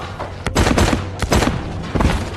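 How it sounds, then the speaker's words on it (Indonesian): Gunfire in a film scene: two sharp, loud shots each followed by a rapid burst of crackling fire and booming echoes, close and dense, with no speech over them. "Dan ketika Lee menyuruh si ketua untuk menembak Dewi"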